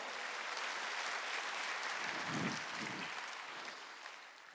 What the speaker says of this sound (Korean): 박수로 하나님께 영광을